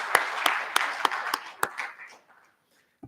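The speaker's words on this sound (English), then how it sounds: "I'd like a nice round of applause for the Board of Education" Board of Education meeting audience giving a short round of applause, a handful of distinct sharp claps standing out over a steady patter that fades away after about two seconds, followed by a single faint clap.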